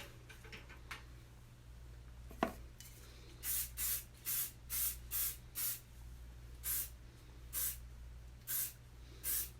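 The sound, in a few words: hairspray being sprayed on hair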